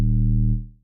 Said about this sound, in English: For a drill beat, you need a bass that sounds like this.